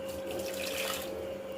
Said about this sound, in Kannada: ಸ್ವಲ್ಪ ನೀರು ಹಾಕಿ ತೊಳೆದ್ಬಿಟ್ಟು ಮತ್ತೆ ಮಿಕ್ಸಿಲೇ ಹಾಕಬೇಕು